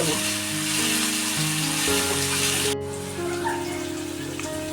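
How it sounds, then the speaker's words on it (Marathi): Cumin seeds sizzle in hot oil for a tempering while cooking okra, a dense close crackling hiss with faint tonal hum running underneath throughout. "मी थोडंसं फोडणीला जिरं टाकते"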